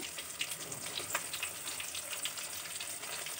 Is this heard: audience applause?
no